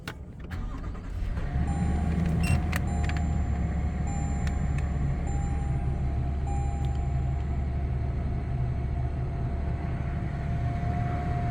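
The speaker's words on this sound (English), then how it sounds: "All you have to do is put your foot on the brake, hit the button to start the engine." A 2022 Toyota Tundra TRD fires up from a push-button start: a short starter crank, then the engine catches and settles into a steady, low idle rumble that holds close and even to the end.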